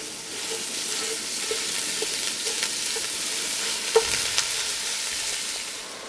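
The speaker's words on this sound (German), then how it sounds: "Und wenn das Öl dann heiß ist, braten wir zuerst mal das Gehackte an" Minced meat browning in hot oil inside a Dutch oven, a steady soft sizzle running throughout with a few faint clicks and one sharper tap near the end.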